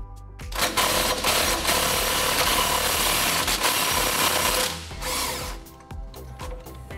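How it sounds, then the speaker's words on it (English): An impact gun with a 21mm socket runs a bolt out on a Dodge RAM 1500 front end, giving a loud, sustained whirring hammer for about four seconds, then a few shorter bursts and clanks. "So then we can run out this bolt with our 21mm gun."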